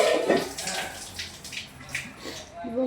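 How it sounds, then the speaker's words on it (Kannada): Water is poured into a cooking pot of masala, giving an uneven splashing, gurgling flow at close range. "ಆ ನೀರನ್ನೇ ಇದಕ್ಕೆ ಹಾಕಬೇಕು ಅಂತ"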